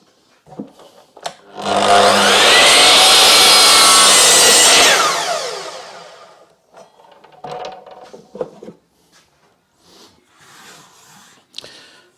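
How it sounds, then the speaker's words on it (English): A miter saw whining up to speed and biting through a piece of wood in one loud cut of a few seconds, followed by the blade spinning down and scattered handling knocks. "so I'll do that on my miter saw"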